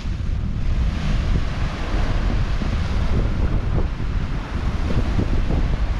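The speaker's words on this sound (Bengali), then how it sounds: "ঢেউ কিন্তু বিভৎস ঢেউ আসছে এখন, পুরো ভরা কোটাল, ভরা জোয়ার," Big high-tide waves on Digha beach surge in a loud, continuous roar, heavily buffeted by wind rumble on the microphone, with no voices heard.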